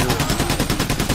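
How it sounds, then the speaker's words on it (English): Rapid, steady gunfire from the video game Payday: The Heist, a dense run of repeated shots at an even rhythm filling the whole moment, loud and close with no voices. "Oh, they're still shooting at me, man."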